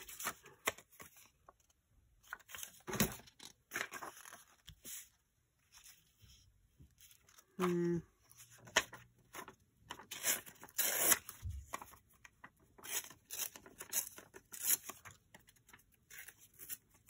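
Quiet, close crinkling and ripping of paper in irregular bursts, with soft rustles and handling sounds between them and no talking.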